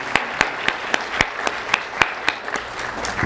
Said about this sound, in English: give a round of applause for the power that lives right here in our